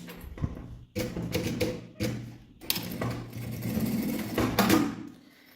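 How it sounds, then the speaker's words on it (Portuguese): A sewing machine stitches a seam on a small fabric pouch. It runs in several short bursts of quiet, steady mechanical chatter, with brief stops between runs. "Então, coloca e passa uma costura."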